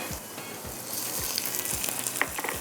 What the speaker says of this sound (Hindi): मिक्स गरम मसाले को थोड़ा सा इसके साथ फ्राई करेंगे